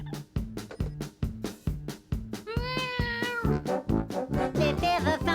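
A cat meows repeatedly in a steady rhythmic pattern, loud and close, running alongside a bouncy cartoon song with sung melody entering partway through.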